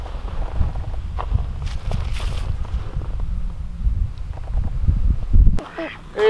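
Ducks on a farm honk and quack in a busy, continuous chorus close by, with a brief voice near the end.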